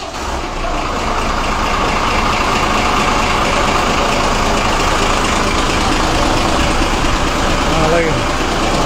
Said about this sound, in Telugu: కొత్తూరు లంక బస్సు బయలుదేరుతుంది.